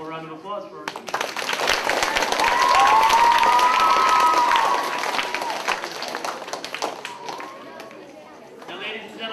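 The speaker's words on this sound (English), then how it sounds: "One more round of applause for her." Audience applause at a sixth-grade academic school assembly, a crowd clapping in a steady patter that swells then eases, with some voices and a tonal sound rising over the middle.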